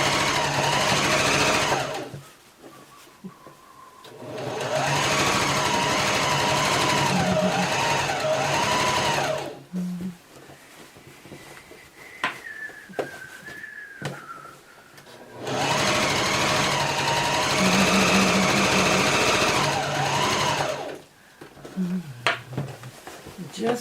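A sewing machine stitches during a herringbone layout job in long loud runs of rapid whirring, stopping between runs while a person talks and the fabric is shifted.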